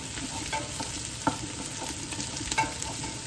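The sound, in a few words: stirring chopped garlic frying in pan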